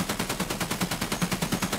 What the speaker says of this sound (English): I'm about to light him up with the MG.